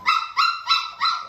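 Four quick, high-pitched barks from six-week-old cattle dog cross puppies ring out in an even rhythm, close and clear.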